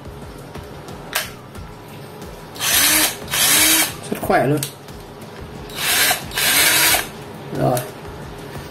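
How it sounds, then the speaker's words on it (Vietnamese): A cordless drill with a repaired battery whirs in several short bursts, revving up and stopping, with a brief spoken remark between runs. "Đây, mình cắm vào mình khoan này."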